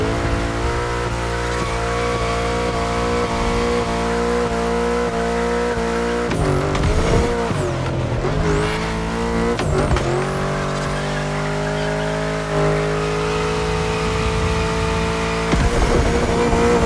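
Car racing in The Crew Motorfest, with a steady engine drone that shifts pitch as it accelerates, broken by brief tire squeals and skids through turns, loud and continuous with no voices.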